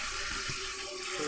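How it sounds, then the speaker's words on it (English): Water pours steadily into a skillet holding cabbage, a continuous hissing rush of tap flow that carries through the whole short stretch without pause. "fill it with water"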